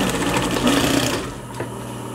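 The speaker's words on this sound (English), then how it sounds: "Be careful when you start sewing between the pins, go slow." A sewing machine stitches a fabric face mask, a close, steady mechanical whir with a rapid needle rhythm that eases slightly toward the end.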